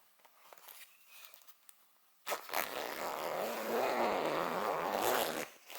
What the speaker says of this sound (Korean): 그리고 나서 메인 지퍼를 잠가줍니다.